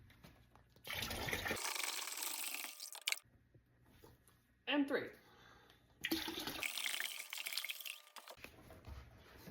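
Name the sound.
water being poured from jugs for tanning rabbit hides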